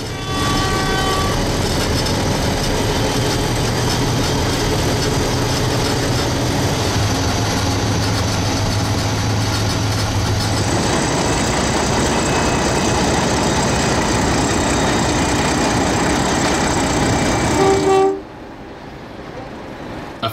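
Two English Electric diesel locomotives double-head a heavy train on the Weka Pass Railway, rumbling steadily with a low droning engine, loud and close, a horn-like tone sounding midway before the noise cuts off near the end.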